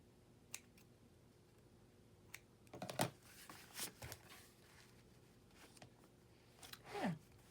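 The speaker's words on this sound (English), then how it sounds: "Scissors here, clip those" Scissors snip loose threads off an altered book in a craft session, a few faint, separate clips spaced over several seconds in a quiet room.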